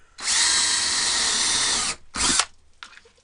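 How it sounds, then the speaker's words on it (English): A power drill bores a hole through luan plywood in a motorhome build, a loud close whine running for nearly two seconds, then a shorter second burst and a faint trailing spin-down. "So I'm gonna drill a hole right here."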